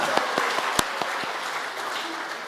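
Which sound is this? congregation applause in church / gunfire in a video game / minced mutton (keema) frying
congregation applause in church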